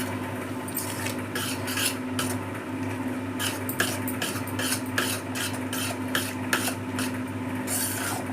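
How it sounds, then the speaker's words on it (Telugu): Andhra-style gongura dal being stirred in a pot: steady, repeated scraping and swishing strokes of a spoon against the pot, close and continuous, with no voices. "పప్పు అంతా కలిపేద్దాం."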